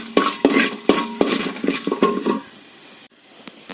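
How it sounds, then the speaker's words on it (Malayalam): Upma being stirred in a pan with cashew nuts: a utensil scrapes and clinks against the metal in quick, irregular strokes, loud and close, then the stirring fades to a quiet hiss near the end. "നന്നായിട്ടൊന്ന് ഇളക്കി കൊടുക്കുക."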